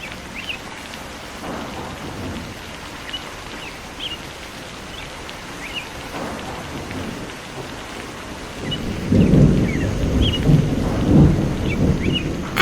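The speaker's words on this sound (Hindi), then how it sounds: "अरे भैया कालू, इस बारिश में क्या कर रहे हो?" Steady rain patters on surfaces with soft rolls of distant thunder, swelling into a heavier rumble toward the end, while birds chirp faintly.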